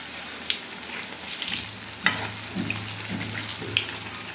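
Potato bondas frying in hot oil tea-shop style, a steady crackling sizzle with a few sharp pops and spatters, close by and moderately loud, no voices.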